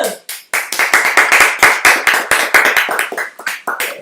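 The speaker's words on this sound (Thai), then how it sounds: "เสียงปรบมือ" A few people clap their hands close by in a quick, lively run of sharp claps that follows a brief pause, with the rhythm loosening toward the end.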